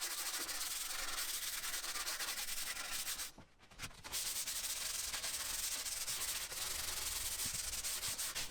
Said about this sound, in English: I did some sanding at 240 grit just to get it all consistent